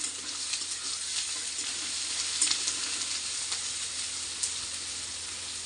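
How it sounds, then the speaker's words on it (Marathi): Sliced onion and green chillies frying in oil in a pan, giving a steady, close, bright sizzle throughout with a few faint stirring taps and no voices. "इथं मी कांदा परतायला टाकलेला आहे, कांदा आणि हिरव्या मिरच्या।"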